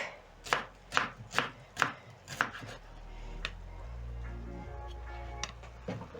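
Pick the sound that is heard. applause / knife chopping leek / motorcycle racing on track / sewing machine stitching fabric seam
knife chopping leek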